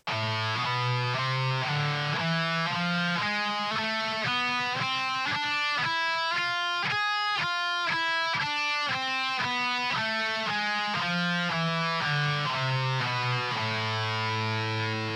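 A guitar plays an A harmonic minor scale note by note, climbing steadily in pitch and then descending back down, each note clear and evenly spaced.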